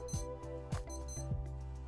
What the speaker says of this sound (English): And it will give the beeping sound.